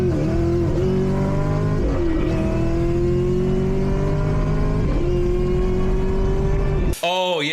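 A high-horsepower Camaro ZL1 on Toyo R888R tires runs hard, its engine and supercharger whine climbing steadily through several gear pulls, loud and close, before a brief abrupt change at the end.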